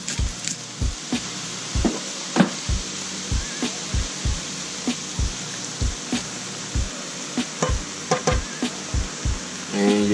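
Empanada filling sauteing in a skillet, a soft, steady sizzle interrupted by a regular series of low knocks as the spoon stirs and taps against the pan.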